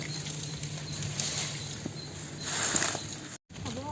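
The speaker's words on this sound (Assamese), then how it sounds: "বৰষুণত তিতি তিতি আহি আছো আমি এতিয়া। বৰষুণ বহুত বৰষুণ" Rain patters steadily in a dense, even hiss, swelling slightly louder for a moment before settling back.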